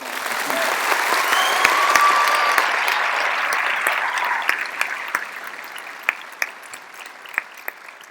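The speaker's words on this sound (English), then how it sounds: "Let's give her a round of applause." A high school graduation audience applauds a graduating student heading to study biological engineering, dense sustained clapping that thins into scattered, sharper individual claps toward the end.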